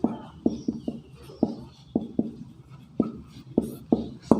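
A teacher writes on a classroom board in a series of sharp, irregular taps and short strokes, close and clear, with no talking over them.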